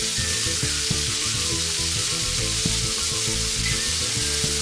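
Cherry tomatoes hit a pan of hot olive oil and toasted garlic, setting off a loud, continuous sizzle and fry with no voices.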